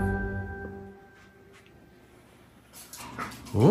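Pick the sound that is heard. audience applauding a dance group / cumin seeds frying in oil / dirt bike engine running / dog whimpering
dog whimpering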